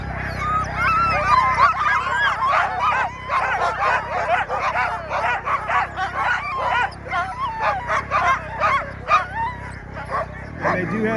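Sled dogs at the start of the Louise Mason Tug 150 race near Goose Bay, Alaska, bark and yip excitedly in a dense, overlapping chorus close by, with someone talking over the din.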